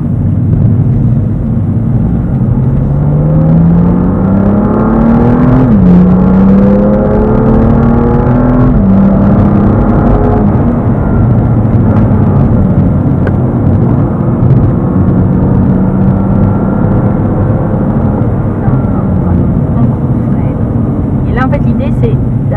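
Race car accelerating hard on the Dreux circuit, a loud steady engine drone with rising pitch sweeps through the gears, continuous and close, with a driver's voice talking over it throughout.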